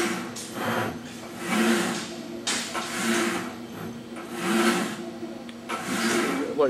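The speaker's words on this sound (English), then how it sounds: "See the elevator going up and down, the trays going in and out." A Samsung Tray Tower FW-20S runs its elevator up and down while trays slide in and out, making repeating mechanical whirs and sliding rumbles in rising and falling swells with brief clunks.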